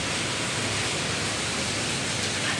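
Heavy rain pours down in a steady, dense hiss that fills the whole stretch evenly, loud and close, with no voices over it.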